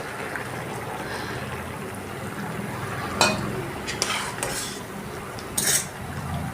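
Tamarind pulp being stirred into a cooking okra dish in a pan, with a quiet steady simmer and a few clear spoon clinks and scrapes against the pan near the end, close by and without talk.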